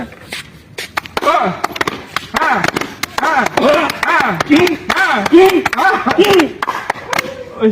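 Sharp slaps and whacks as thieves caught stealing lights at a university mall square are beaten on a clap command, irregular hits ringing out close by under loud, constant shouting voices.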